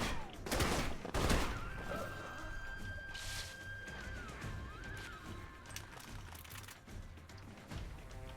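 Gunfire from the Alpha Protocol video game, two heavy bursts near the start and then scattered lighter shots with a thin electronic whine above them, moderately loud with no speech.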